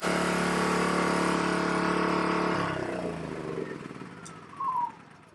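A NEXPOW YH2200i portable inverter generator runs loudly on a warm day, its steady engine drone easing down and fading after a few seconds, with a brief burst near the end.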